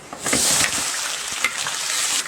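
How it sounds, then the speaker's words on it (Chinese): Sichuan peppercorns, star anise and big pork bones fry in hot oil in an iron wok, giving a loud, steady, hissing sizzle that swells early and holds throughout. "放上花椒、八角炸香，大骨头搞里头。"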